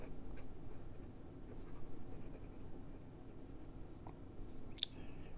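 A Hongdian N8 fountain pen with a fine steel No. 6 nib writes on Clairefontaine 90 gsm paper, producing a soft, continuous scratchy whisper of strokes, close and quiet, with one brief tick near the end.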